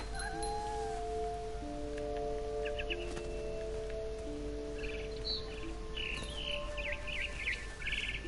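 In the video game What Remains of Edith Finch, a bird chirps and trills over a steady ambient game backdrop. Short, fairly faint calls come in scattered bursts across the clip.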